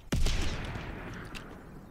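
One sharp distant gunshot from a snowy Call of Duty: WWII battlefield, its boom rolling off slowly into a long fading tail, with a faint later crack.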